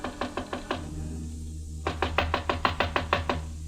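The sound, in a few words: knocking on a hotel room door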